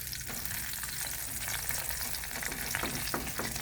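Sliced chayote fries in hot oil in a pan, giving a loud, steady sizzle with small crackles and occasional stirring.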